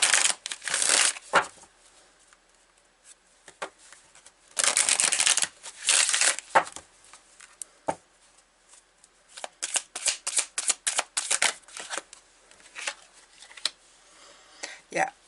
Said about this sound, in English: I'm going to take a card from the Chakra Wisdom Oracle.